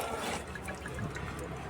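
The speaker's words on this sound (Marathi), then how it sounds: "नळ चालू केलेला आहे आणि मशीनमध्ये पाणी येतं आहे की नाही हे चेक करूया." Tap water runs through an inlet pipe into a washing machine, a steady broadband rush of flowing water that continues without pause for the whole short stretch.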